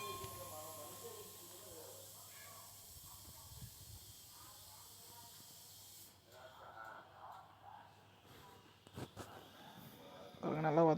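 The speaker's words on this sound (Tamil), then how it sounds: "வெங்காயம் பச்சை மிளகா ரெண்டு வெட்டி வச்சுருக்கோம் அதையும் போட்டுக்கலாம் அதையும் போட்டு நல்லா வதக்கி விடுங்க" Chopped onions and green chillies sizzle in a pan as they sauté, a steady soft hiss that runs throughout, with occasional scraping and a louder clatter near the end, while a person talks over it.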